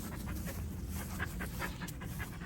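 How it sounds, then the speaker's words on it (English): A dog pants quickly and rhythmically while eating weeds in a garden, short breathy huffs close to the microphone over a faint outdoor background. "Here's my dog who's being a little turd, eating"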